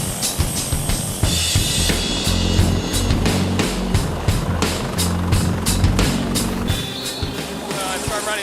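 Loud helicopter rotor thumping in a rhythmic, pulsing drone, close by and steady throughout, with engine whine above it.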